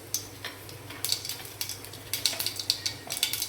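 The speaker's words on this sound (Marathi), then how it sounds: "एका कढईमध्ये 1 पळी तेल घेतलेलं आहे, आणि त्यामध्ये मोहरी" Mustard seeds frying in a ladleful of oil in a kadhai give off irregular, sharp crackling pops close by, with no voices.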